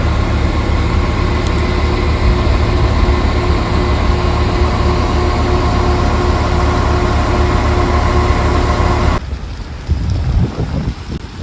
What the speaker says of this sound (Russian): На таком поезде поедем сегодня